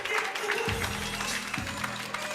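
Spectators applauding after a squash final at a challenger tournament in Poznań, a steady wash of clapping throughout, moderately loud with a faint low tone underneath.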